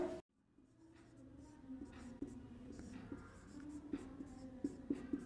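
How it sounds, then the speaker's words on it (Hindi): Pen scratching across paper as notes are written by hand, a steady faint scraping with small taps and strokes, close and quiet, with no talking over it. "लिख लेते हैं हम।"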